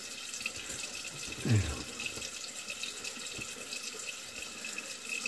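Tap water running into a sink for a rinse after a wet shave, a steady hissing flow with one brief louder splash early on and scattered drips, close by.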